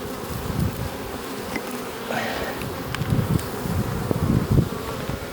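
Honey bees crawl over a hive frame of hatching brood from breeder queen colonies, a close, continuous buzzing hum that swells and dips in small surges, with no talk.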